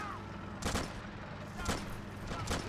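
Gunfire in Army Men: Plastic Wars, three faint, separate shot bursts spaced about a second apart, set back in the mix under low game ambience.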